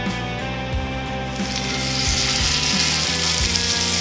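Bread pieces frying in vegetable oil in a ripping-hot cast iron pan give a steady, loud sizzle that swells slightly as it goes on, with no talking.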